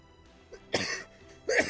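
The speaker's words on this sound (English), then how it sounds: "I'm coughing a lot." Two sharp, raspy coughs close to the microphone, separated by a short pause, with a faint throat sound just before.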